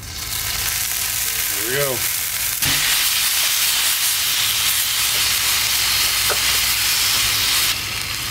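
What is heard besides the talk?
beef chuck cross rib roast searing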